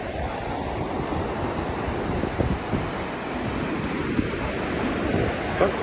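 Waves washing onto a sandy Sea of Azov beach at Kuchugury under steady wind buffeting the microphone, a continuous broad rushing roar with occasional small gusts.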